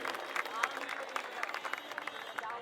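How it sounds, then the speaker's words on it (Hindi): Crowd applause at an Independence Day event in Agra, a dense burst of clapping lasting a few seconds with steady rapid claps and some cheering mixed in. "जोरदार तालियां।"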